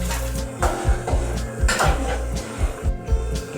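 A metal lid is set onto a pot of simmering mutton curry, giving a series of close, sharp clanks and clinks in an uneven rhythm.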